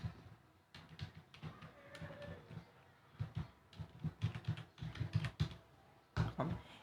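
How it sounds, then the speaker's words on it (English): Fingers type an email address on a computer keyboard, a close run of quick, soft key clicks in uneven bursts, quiet and without talk. "So I type my developer's email"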